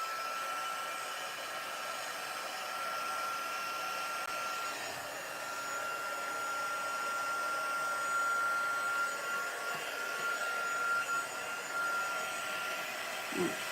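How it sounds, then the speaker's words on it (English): A heat tool used for heat embossing a stamped card blows steadily for the whole stretch, a loud, even, close-up rush of hot air like a hair dryer with no talk over it. "it's going to get a little loud here for a moment while we heat emboss"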